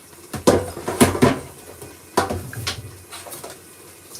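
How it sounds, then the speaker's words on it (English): Dishes and utensils clink and clatter in a sink, a few sharp knocks spaced out over light running background noise. "I'm using my time to tidy the sink."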